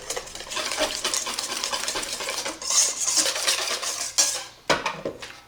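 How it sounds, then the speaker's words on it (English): Batter ingredients are mixed in a stainless steel pan, a busy run of metallic scraping and clinking from a utensil stirring against the metal, close and continuous, ending with a few sharper knocks. "We're gonna mix up all our ingredients."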